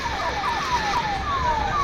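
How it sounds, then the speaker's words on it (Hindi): Fire engine sirens wail repeatedly with descending sweeping tones over steady traffic rumble during a village riot with fires and smoke, loud and continuous. "दमकल की गाड़ियों के सायरन बजने लगे"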